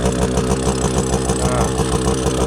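A two-stroke motorcycle engine idling with a loose, rattling muffler on a monsoon ride, a loud, steady, close chugging with even, rapid pulses.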